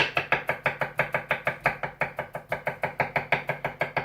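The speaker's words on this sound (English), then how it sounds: "you take that and you chop it into" A knife chops food into tiny pieces on a board in a fast, steady run of sharp, close knocks, about four or five a second, with no voices.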